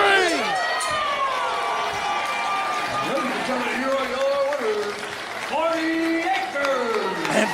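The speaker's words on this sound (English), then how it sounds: "But you heard that crowd reaction." A wrestling crowd cheers and roars after a win at a live match, loud sustained shouting and applause with whooping voices rising and falling throughout, and an announcer talking over it.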